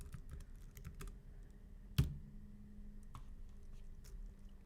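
Soft clicking of keys as an address is typed on a computer keyboard, light irregular taps with one louder press, close and quiet.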